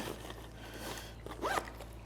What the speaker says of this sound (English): This little back zipper that allows it to extend out is great.